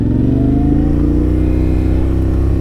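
A 2024 Yamaha Ténéré 700 in A2 trim pulls hard under acceleration, its parallel-twin engine droning loud and close with a rising, steady growl and no talk over it.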